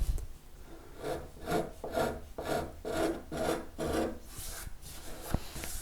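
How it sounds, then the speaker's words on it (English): A carving file doing fine shaping on the wooden neck of an ES 335-style guitar build, rhythmic rasping strokes, about ten back-and-forth passes, close and alone. "I'm just doing some last kind of fine shaping with a carving file just to get it where I need it."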